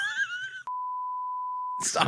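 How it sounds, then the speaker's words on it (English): A steady, flat censor bleep lasting about a second cuts sharply between bursts of speech. "I'm beeping that too."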